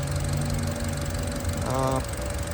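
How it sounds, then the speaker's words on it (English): A Chevy Cruze or Buick Encore engine with a new valve cover idles steadily with a smooth, even hum, and a brief higher tonal whine rises partway through. "You can see the engine idle normal now, very smooth."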